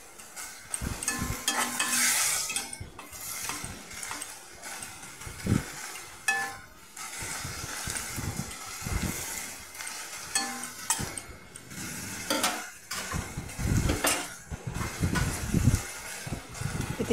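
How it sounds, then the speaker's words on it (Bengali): Broken sun-dried lentil dumplings are stirred in a frying pan, with repeated scraping and clinking of a spatula against the pan over a soft, steady sizzle, close and fairly quiet. "একটু নাড়াচাড়া করে"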